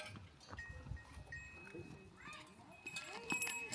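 Cows and water buffaloes walking into their pen on a rural evening, soft hoof clops, faint livestock sounds and a light bell-like clink, heard from a distance under quiet voices.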